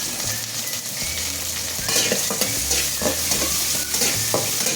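Green chillies, ginger and curry leaves sautéing in a pan for potato puttu, a loud steady sizzle with rhythmic stirring scrapes throughout.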